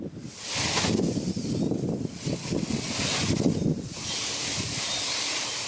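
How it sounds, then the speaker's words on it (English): Wind gusts roar and buffet outdoors in a continuous rushing blast, swelling and easing over several seconds, loud and close with no voices. "it's windy."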